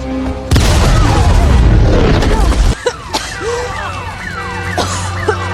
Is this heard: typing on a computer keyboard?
no